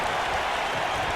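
A wrestling arena crowd in WWE 2K, in Albuquerque, gives a brief, steady wash of applause and cheering, loud and diffuse, with no voice over it.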